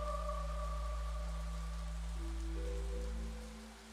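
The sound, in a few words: rain falling in a video game trailer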